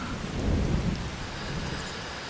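Steady rain and a low rumble of thunder from a farming video game set in Louisiana, a continuous wash of rainfall with a deeper roll swelling early, no talking.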